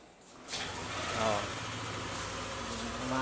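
A Yamaha Aerox 155 scooter engine sputters into life and settles into a steady idle, a continuous buzzing drone close by.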